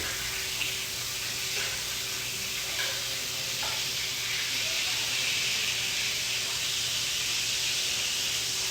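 Foie gras and lobster searing in a pan, a steady hiss and sizzle heard from a little distance with faint clinks and no talk.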